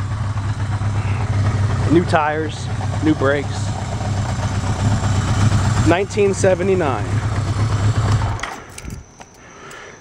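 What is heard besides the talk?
motorcycle engine idling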